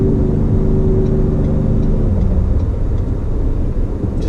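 A 2019 Ford F-150 pickup with twin turbos pulls away from a dead stop in slow workday traffic, its engine droning loud and close, the pitch shifting as it gathers speed over a steady rumble of road noise.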